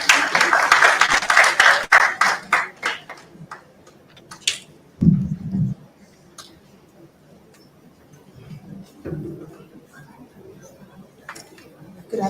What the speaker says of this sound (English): Ladies and gentlemen, with a round of applause, let's welcome Dr.